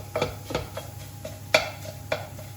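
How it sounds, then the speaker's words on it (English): Tofu chow mein being stirred in a pan, with a utensil scraping and clinking against the metal in several distinct strokes over a low, steady background hum; no one talks. "let's give that a little bit of a stir around"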